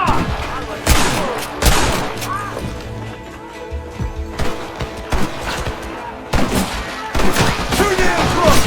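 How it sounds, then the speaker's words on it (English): Rapid bursts of gunfire from a Gatling gun in a Red Dead Redemption shootout, loud and dense with repeated heavy impacts and crashes, plus voices and game noise mixed in. "You man the Gatling gun, Marston!"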